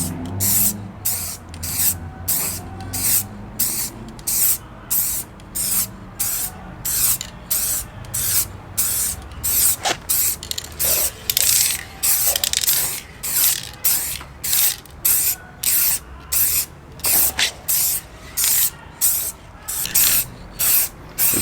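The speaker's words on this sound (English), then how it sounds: "It's a fast drying and durable, super smooth finish spray paint." Acrylic gloss black spray paint hisses from an aerosol can in a long run of short, rhythmic bursts, close and fairly loud, while refinishing the scuttle panel of a Mk2 Ford Focus ST.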